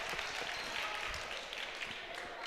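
Spectators at a girls' high school basketball game between Torrington and Wheatland, a dense, steady wash of crowd noise and applause in a gym, heard at moderate distance with no clear individual voices.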